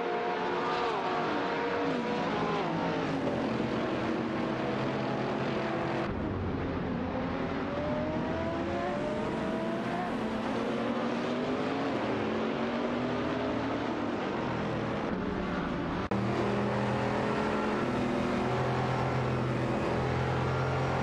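GT3 and GT2 race cars, including a Jaguar XKR GT3 and a Morgan Aero 8 GT2, in a racing video game, with dense overlapping engine whines that rise and fall continuously as several cars run close together.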